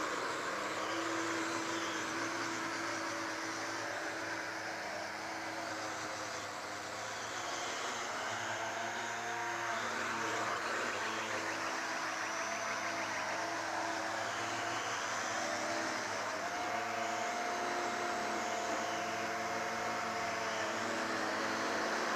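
A Millennium Falcon XL quadcopter drone flies with a steady, loud whirring rotor drone that holds throughout, its pitch wavering slightly as it moves, with no talking.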